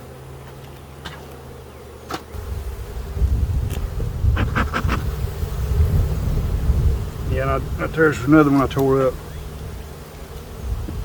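Honey bees buzz around an open beehive during a hive inspection, a low steady drone with scattered close passes while someone talks over it.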